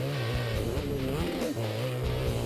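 A hill climb motorcycle engine heard from a helmet camera, revving up and down in close, steady surges with a rough throaty tone and wind rush throughout.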